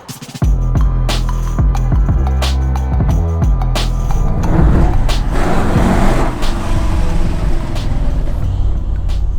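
A 1970 Dodge Challenger muscle car engine rumbles loud and close, with deep low throbbing pulses that build into a sustained driving roar.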